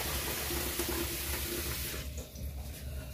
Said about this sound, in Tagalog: Dagdagan pa nga natin ng tubig.